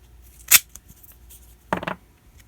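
Scissors cutting gaffer's tape into strips: two short, crisp snips about a second apart, close and fairly loud against quiet background, with no talking.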